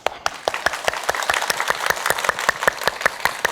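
Audience members clap in unison, a burst of steady, fairly loud hand claps from a group in a room, without talking.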